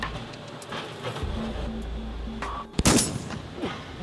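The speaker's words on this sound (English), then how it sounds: "There's a guy with a gun. He's shooting." Sharp gunshots inside a Methodist church during a live-streamed service, several loud bangs clustered near the end amid a steady background hum and rustling, with no clear talk.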